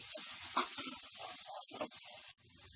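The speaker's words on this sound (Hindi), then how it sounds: "प्याज का कलर अच्छे से ब्राउन होने तक हाई फ्लेम पे इसे फ्राई कीजिए।" Onions frying in ghee over a high flame, a continuous bright sizzle and hiss with faint crackles and light clatter beneath, fairly close and steady throughout.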